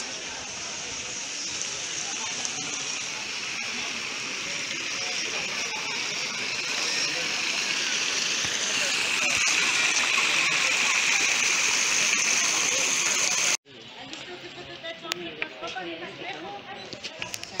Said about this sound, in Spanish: Por aquí pasa el río.